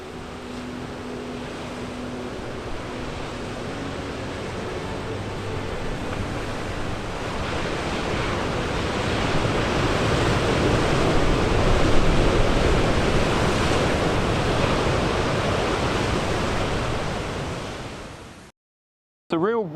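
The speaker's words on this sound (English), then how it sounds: "It's a real rugged coastline we have here, and it's impressive how powerful the ocean is." Powerful ocean surf breaks on a rugged Tasmanian west coast, a continuous broad roar of waves that swells louder through the middle, with wind across the microphone and a brief cutout near the end.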